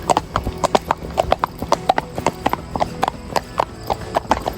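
Horses' hooves clip-clop on a trail ride through town streets, a close, loud, rhythmic run of hoof strikes from several animals in quick steady succession.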